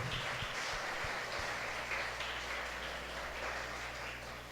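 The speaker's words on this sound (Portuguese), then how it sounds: "palmas ao Senhor pela vida dela" Church congregation applauding during a sermon at a conference: a soft, fairly distant wash of clapping that continues evenly throughout, with a few low thumps near the start.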